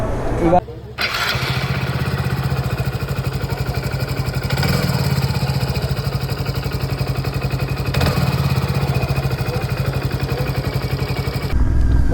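A faulty motorcycle engine starts with a brief cough, then idles with a fast, uneven, rattly chug close by. The running note swells slightly twice, and someone talks over it.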